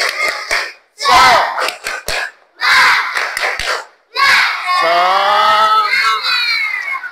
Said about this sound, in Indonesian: ayo sama-sama kita dulu tepuk semangat